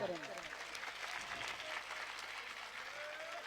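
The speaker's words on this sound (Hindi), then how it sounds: "इसलिए जोरदार तालियों से स्वागत करेंगे" Audience at a Shrimad Bhagavat Katha gathering breaks into sustained applause, a dense, even wash of clapping heard from some distance, with a voice briefly over it.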